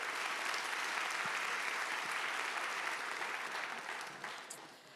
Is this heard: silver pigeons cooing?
no